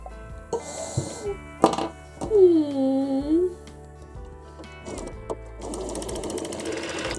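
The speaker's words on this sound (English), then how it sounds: "I sewed the second cuff to the arm, top stitched it" A sewing machine stitching a hoodie cuff to the arm, running in several short bursts of whirring with rising and falling motor pitch between pauses and small clicks, fairly close.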